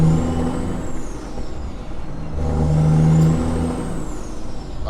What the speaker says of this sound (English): I just like to listen to the sound of that truck just going through the gears